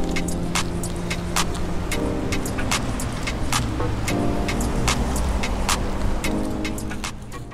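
Steady city car traffic rolling through downtown Seattle streets at low speed amid stoplights, a continuous near road rumble with passing vehicles and scattered clicks, no voices.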